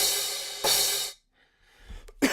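A sustained, hissy 808 drum machine crash cymbal washes out loudly and is retriggered midway before cutting off, followed by faint low rustles and a brief click.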